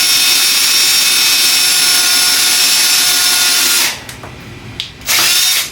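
A Wood Owl brad point drill bit bores slowly through a scrap 2x piece of wood with a loud, steady high whine, then it pauses briefly and resumes near the end.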